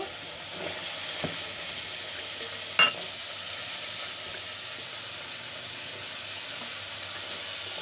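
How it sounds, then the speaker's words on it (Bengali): Potatoes and cumin frying in a spice paste, a faint steady sizzle and hiss with one sharp utensil clink partway through, no voices. "এখন একটু জিরা দিয়ে দিচ্ছি এখানে আগে থেকে কেটে রাখা এখন আলুগুলো দিয়ে দিব"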